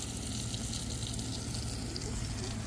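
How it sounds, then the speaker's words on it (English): Garden beds being watered, a dense continuous hiss of spraying water close to the listener, steady and unbroken for a few seconds without talking. "now we just gotta water everything."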